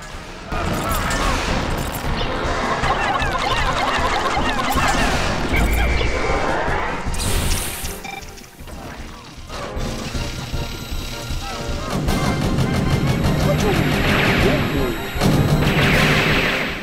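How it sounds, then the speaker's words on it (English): In the Pikmin 2 video game, a spider boss unleashes machine gun fire as rapid bursts of crashing, clattering shots over busy game sound, loud and dense, with people talking over it. "Nice, a machine gun."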